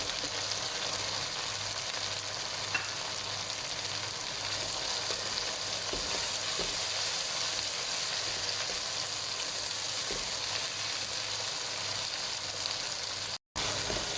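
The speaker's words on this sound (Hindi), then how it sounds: "सब मिर्चों के पेस्ट और टमाटर को चंद मिनट हम अच्छी तरह कुक करेंगे, ताकि इनका कच्चापन दूर हो सके।" Chili paste and chopped tomatoes fry in a pan for mutton aloo keema, a steady dense sizzle and crackle running continuously and close, with faint stirring scrapes and no voices.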